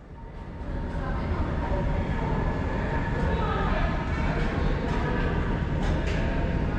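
A train moves through an underground station in a continuous, loud, close rumble with a hissing rail roar that holds steady throughout.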